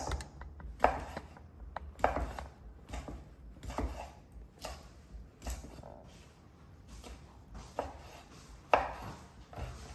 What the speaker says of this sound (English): So let's chop our sausages, smoked sausages.